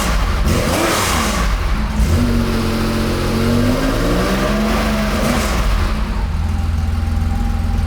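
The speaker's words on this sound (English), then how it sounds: "I'm just gonna give it a couple more throttle blips." A 1981 Porsche 911 SC, warmed up, revs through a series of throttle blips, its engine note rising and falling in sweeping pitch bends over a steady loud idle, close by with no talking.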